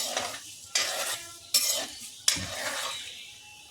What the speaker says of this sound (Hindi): थोड़ा सा जीरा हो रहा है